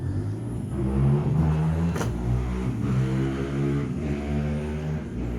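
BMW E30 car engine revving, a close rumbling idle rising and falling through several throttle blips, heard alone without talk.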